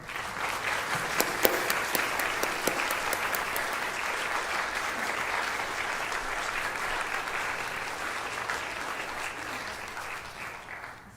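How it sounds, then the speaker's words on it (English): An audience applauds steadily for several seconds at a school graduation ceremony, dense clapping at an even level, with a few sharp, distinct claps standing out near the start. "One more round of applause."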